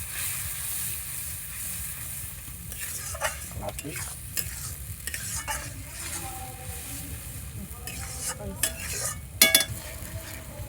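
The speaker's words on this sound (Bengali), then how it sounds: "এবার এইটাকে তেলটা ছাড়া পর্যন্ত একটু ভালো করে এই মশলাটাকে কষিয়ে নিতে হবে" Kashmiri chili powder masala frying in oil, a steady close sizzle with repeated scraping stirs and utensil clinks against the pan, one sharper metallic knock near the end.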